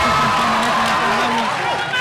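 A boxing crowd at an All Star Boxing card cheers after a combination by Enriquez against Simon, a steady roar of voices and whoops filling the arena with a commentator's voice running over it.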